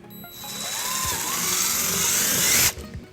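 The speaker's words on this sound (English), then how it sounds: "then we'll drill our first hole using a 3/16 drill bit" A power drill with a 3/16 bit whines steadily as it bores a hole in a 2015 Chevrolet Impala, rising in pitch and loudness for nearly three seconds before stopping abruptly.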